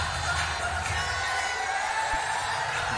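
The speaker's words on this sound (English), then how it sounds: "crowd enjoying themselves" Stadium crowd at a T20 cricket match in Gwalior, India versus Bangladesh, a dense, steady roar of distant cheering voices filling the space throughout, fairly faint.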